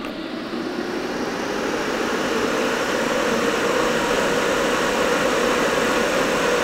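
SALDA ventilation unit's fan runs at maximum speed with its cover off, a loud, steady broadband whoosh with a faint hum that holds constant throughout, with no speech.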